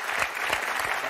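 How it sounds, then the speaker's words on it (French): Studio audience applause on a French television game show, a steady, dense burst of clapping sustained throughout without a break. "On vous applaudit très fort"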